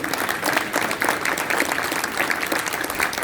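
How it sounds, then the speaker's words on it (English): Steady applause from an audience fills the whole clip, dense and even, with no voices standing out. "Another round of applause for Alexis Joy."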